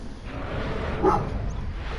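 A single short dog bark near the middle of a brief stretch of Final Fantasy X gameplay, moderately loud over a steady, low game background.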